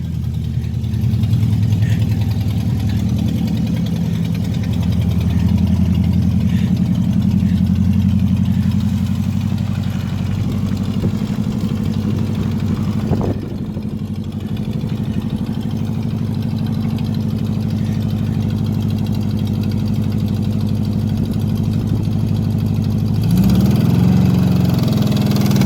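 A 1974 Volkswagen Super Beetle pickup engine runs steadily at a loud, close idle for a long stretch, with a brief dip midway and a slight revving surge near the end.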